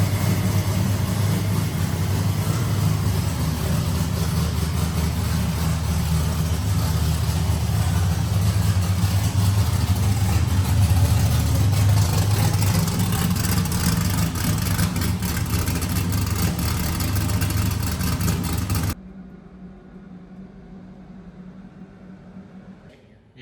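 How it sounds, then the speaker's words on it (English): A drift car's engine idles steadily through a heat cycle, a loud, constant low rumble with a few small throttle swells, then it cuts off abruptly near the end and leaves a quieter low hum. "a couple more fire ups, heat cycle it, let it idle for a while"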